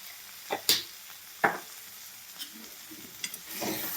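Usal is stir-fried in a pan, with a few scattered scraping stirs and short sizzles that pop out against a quiet, faint background.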